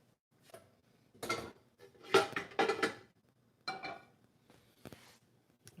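A frying pan is handled in a home kitchen after cooking greens for a purée, giving a few short metallic clanks and scrapes with quiet pauses between.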